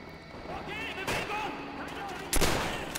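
Gunfire in the video game Call of Duty: World at War, with sharp shots and bursts cracking out at about one second and again near two and a half seconds over a busy battle bed.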